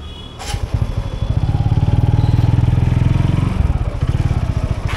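A food delivery motorcycle in Bengaluru putters close by with a steady thrumming engine idle, rising slightly as it is ridden, then cutting to clattering, scraping sounds as it is parked.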